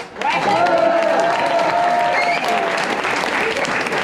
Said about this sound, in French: On peut l'applaudir aussi Jérôme